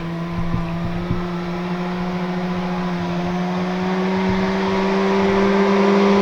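A two-stroke go-kart engine drones loud and steady outdoors, its pitch holding then slowly climbing as it revs, with no voices.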